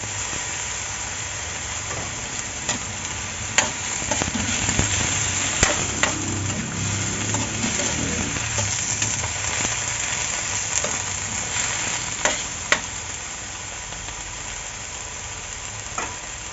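Eggplant frying in a pan during sinigang na sardinas cooking, a steady close sizzle with sharp clicks and knocks of utensils scattered throughout.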